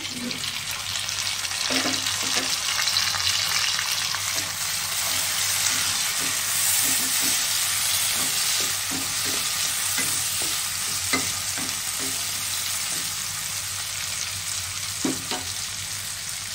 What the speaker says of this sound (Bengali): দেখুন পেঁয়াজটা, রসুন, আদা, কাঁচা লঙ্কা কি সুন্দর ভাজা ভাজা হয়ে গেছে।